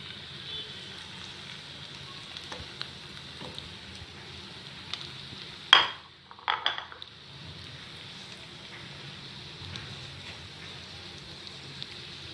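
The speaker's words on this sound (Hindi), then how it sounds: "अब मैं इनके फ्राई करूँगी।" Potato cutlets frying in a little oil in a pan, giving a steady soft sizzle throughout with a brief louder clatter and crackle midway.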